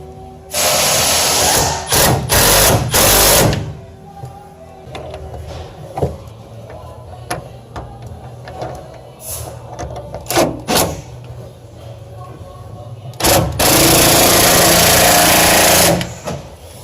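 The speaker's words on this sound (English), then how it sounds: "Put it down to the low setting so that when you tighten it, it's not going to strip that bolt" A power tool set to its low setting tightens a bolt on a truck bed rail, sounding in loud broadband bursts near the start and again near the end, with quieter rattling and clicks in between.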